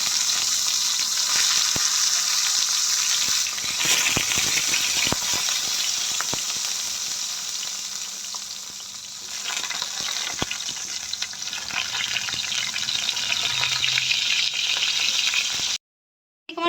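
Brinjal pieces fry in hot white oil in a kadai over a high flame, giving a steady, loud, close sizzle that carries on without a break before cutting off abruptly near the end.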